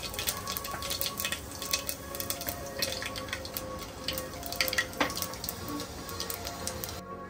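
Panch phoron spices sizzle and crackle in hot mustard oil, a steady close frying hiss with scattered sharp pops and spits running throughout, no talking.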